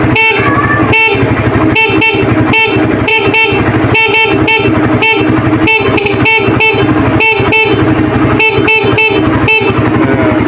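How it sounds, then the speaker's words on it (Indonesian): A Suzuki Satria FU 150 motorcycle horn is honked again and again in short, loud, close bursts with an uneven rhythm. "Kita cek klaksonnya guys, nyala enggak."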